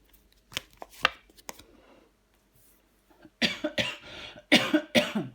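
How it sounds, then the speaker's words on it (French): A person coughs several times, a few quieter coughs at first and then a louder burst of close, harsh coughs. "Je tousse encore un peu."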